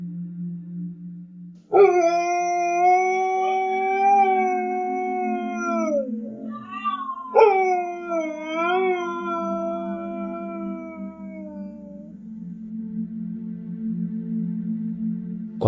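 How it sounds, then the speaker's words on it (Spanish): A single dog howls in two long, wavering, mournful phrases separated by a short pause, close and clear over a quiet indoor background hum. "¿Han estado tranquilos en casa y han oído alguna vez a un perro hacer esto?"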